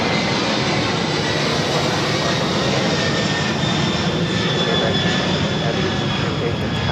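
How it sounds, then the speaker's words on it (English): A DHL Boeing 767 operated by ABX taking off from LAX runway 25 right, a steady, powerful jet roar at full thrust filling the whole stretch, with faint talk mixed in. "That was DHL operated by AVEX 410 taking off to Cincinnati on the 767."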